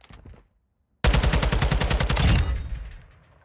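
Automatic assault rifle fire on a firing range in the video game Modern Warfare 2, a rapid sustained burst of loud shots lasting about a second and a half, then ringing off into a fading tail.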